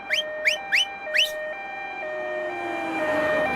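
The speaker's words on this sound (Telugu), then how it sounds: "అంబులెన్స్ వస్తుంది" An ambulance siren opens with several rapid rising chirps, then settles into a steady alternating two-tone wail that grows louder as it approaches, heard alone without voices.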